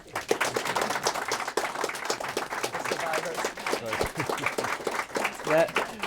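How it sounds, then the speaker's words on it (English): Audience clapping for the panelists at the close of a public health forum, a dense patter of claps running throughout at moderate loudness. "Please a round of applause for them."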